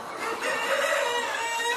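A rooster crows on a poultry farm raising Peruvidai and white chickens, one strong, drawn-out call lasting about a second, close and loud over a light background.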